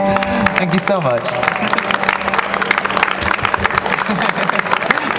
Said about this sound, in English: A special round of applause for this lovely lady here.